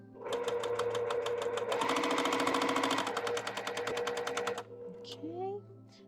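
A home sewing machine chain pieces quilt block pieces in a loud, fast, steady mechanical whir with rapid needle clatter that stops near the end, followed by faint handling sounds.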